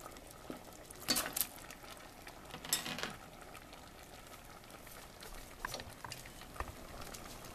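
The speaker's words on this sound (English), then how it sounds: "the sauce is boiling away, so let's add the pasta to it" Pasta tipped into a pot of boiling sauce and stirred, with soft bubbling under a few sharp utensil clinks and scrapes against the pan, close and fairly quiet, no voices.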